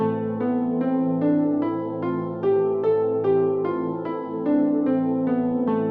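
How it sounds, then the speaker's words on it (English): An A natural minor scale is played one note at a time at an even pace, rising and then descending, each note clear and ringing. "that natural minor scale sounds like this"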